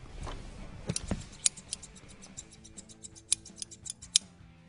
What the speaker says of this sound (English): These are my favorite scissors.